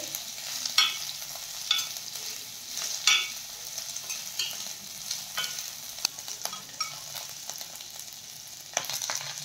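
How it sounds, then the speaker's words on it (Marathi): Onion and large-cut bell pepper pieces being sautéed in a pan for a soya chilli dish, with a steady close sizzle broken by repeated scraping stirs of a spatula, no talking. "ढोबळी मिरची घातलेली आहे, ती पण मी मोठे मोठे काप करून घेतलेले आहेत आणि अगदी अर्धा 1 मिनिट आपल्याला परतून घ्यायचे आहेत"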